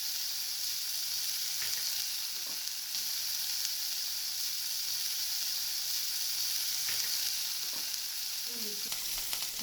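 Capsicum frying with ginger and garlic for green chilli chicken: a steady, soft sizzle in the pan, with a few faint stirring clinks and one scrape near the end.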